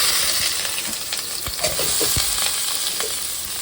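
Chopped onions and green chillies frying in oil for a korramenu fish curry, a loud dense sizzle with a few stirring knocks, close up and continuous.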